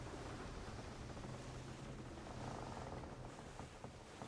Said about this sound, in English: Cat just chilling out.